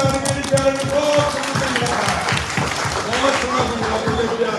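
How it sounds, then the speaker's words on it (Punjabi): A dense, steady wash of audience applause at a Manukhta Di Sewa Society event in Ludhiana. Many hands clap continuously for a few seconds, with voices faintly mixed underneath. "ਪਿਆਰੇ ਨੇ ਇੱਕ ਆਰਤੀ ਲਈ ਵੀ ਤਾੜੀਆਂ ਦੀ ਆਰਤੀ ਲਈ ਵੀ ਤਾੜੀਆਂ"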